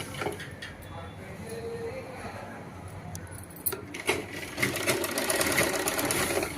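A sewing machine stitches the waist of a garment, its motor whirring in quick runs that grow louder and busier toward the end, with light metallic clinks and a voice talking at times.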